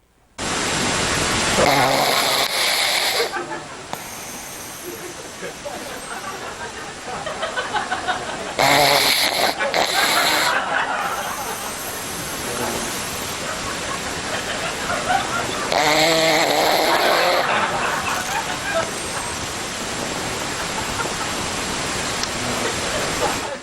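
A sleeping dog gasping and snoring: loud, rough, rasping breaths in long noisy swells that rise and fall over a steady hiss, with no clear speech.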